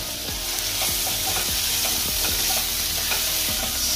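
Onions sizzle steadily in a hot pan while a spoon stirs them in repeated scraping sweeps, close and fairly loud over the constant frying hiss, with no voices.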